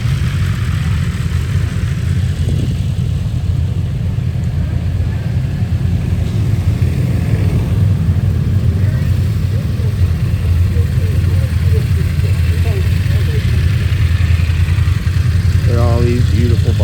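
BMW M1000R motorcycle engine idling steadily at a motorcycle dealer event, a constant low rumble that stays close and even throughout, with a short rev-like flutter near the end.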